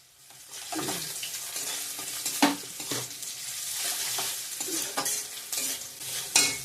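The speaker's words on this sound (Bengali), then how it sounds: "পেঁয়াজটা ভালো করে ভাজা ভাজা হয়ে গেছে আলুগুলো দিয়ে ভাজবো" Chopped onion and ginger fry in oil in a pan with panch phoron, giving a steady soft sizzle broken by periodic scraping stirs and a louder clatter near the end; no one speaks.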